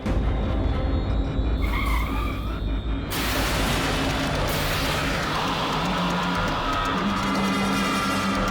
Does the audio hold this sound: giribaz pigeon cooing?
no